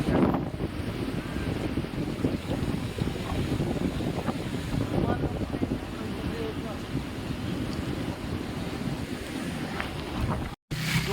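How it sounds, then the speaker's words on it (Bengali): Strong wind buffets the microphone in a constant rough roar, briefly cutting out near the end before resuming. "হাওয়ার জন্য ফোন ধরে রাখতে পারছি না ঠিকঠাক হবে।"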